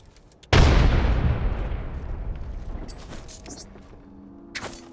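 A frag grenade goes off in a video game with one sudden loud boom. A long rumbling decay follows, with faint clicks and other game sounds trailing after.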